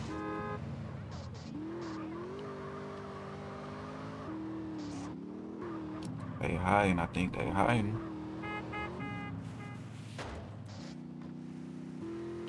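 Cars driving through Vice City and Liberty City in GTA Underground, engines humming and shifting pitch with a burst of louder roaring and horn-like toots in the middle, under a voice talking.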